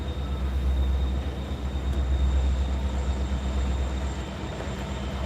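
Delaware and Hudson freight train rolling past at Coffey's Cliff, a steady, dense rumble of railcars and wheels on track with a faint high whine, continuous and moderately distant throughout.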